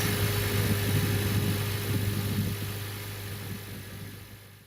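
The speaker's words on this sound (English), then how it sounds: "Car started up. Seems to be running pretty smoothly. Revving the car." A Honda Accord from the 2008-2011 generation idles steadily right after a spark plug change, a close, continuous low engine hum that eases slightly in level toward the end, with no voices.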